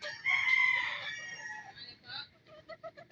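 A rooster crows loudly and close, then a series of short, rhythmic clucks follows, among chickens recently attacked by a dog.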